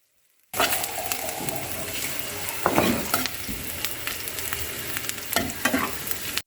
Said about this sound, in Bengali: পরিমাণ মতন তেল এর সাথে শুকনো মরিচ কাঁচা মরিচ আদা কুচি পেঁয়াজ কুচি এগুলি ভালোভাবে ভেজে নিব